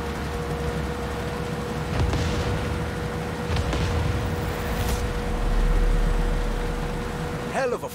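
Fireworks-style explosions in the video game Far Cry 6, a dense rolling barrage of booms and crackles with a few sharper bursts, heard alone.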